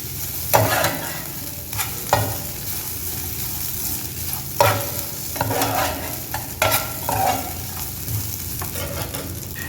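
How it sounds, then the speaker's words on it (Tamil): Chicken fries in a hot pan without any masala while a spoon stirs it. Sizzling runs steadily throughout, broken by a series of louder scraping stir strokes at irregular intervals. No one speaks. "இதோட வந்து சிக்கனை போட்டுறேன். இது ஃப்ரை பண்ண தான்"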